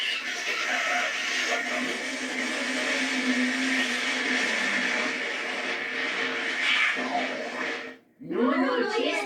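Noo-Noo, the Teletubbies' vacuum cleaner, cleans up the machine with a steady, loud whirring suction drone lasting about eight seconds, then cuts off into a brief squeaky, swooping cartoon flourish; a voice speaks at points.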